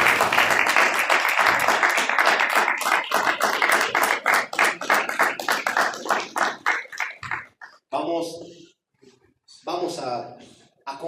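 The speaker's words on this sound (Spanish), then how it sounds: "dale un aplauso a Hashem en este tiempo." A church congregation claps and applauds loudly together in a dense, sustained burst that thins into scattered claps and then fades, with a voice speaking through it.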